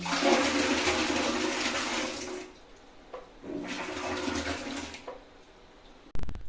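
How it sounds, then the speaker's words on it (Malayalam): A toilet bowl receiving water mixed with cow dung, giving loud rushing, gurgling surges: one long wash, a pause, then a second shorter surge, ending with a brief sharp knock. "ആ വെള്ളം കൂട്ടിയതിന് ശേഷം പിന്നെ ഈ ചാണകം നമ്മൾ ഈ ക്ലോസറ്റിലേക്ക് ഒഴിച്ചു കൊടുക്കുക"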